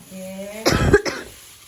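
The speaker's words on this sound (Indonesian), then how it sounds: "Batuk lagi, guys." A single harsh, close cough in two quick bursts, preceded by a short sung tone.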